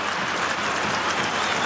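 A stadium crowd at an Australian football match, Carlton against West Coast, bursts into sustained, dense applause and cheering after a long drop punt goal. The noise is steady, distant and fills the air.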